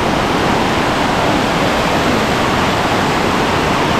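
A jungle waterfall in Kundalika valley pours with a dense, steady broadband roar, close and constant, with no voices over it.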